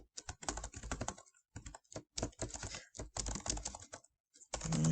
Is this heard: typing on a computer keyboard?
yes